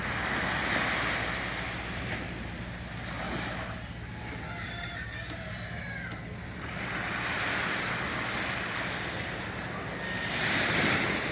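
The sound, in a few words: sea waves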